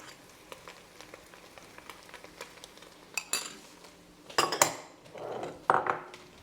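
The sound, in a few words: stirring and frying tomato paste in a pot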